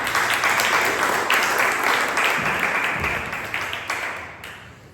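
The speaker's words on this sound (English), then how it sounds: "Please give a round of applause to Toastmaster." Audience applause at a Toastmasters club meeting, a moderate round of clapping from a small room that starts full and gradually tapers off over several seconds.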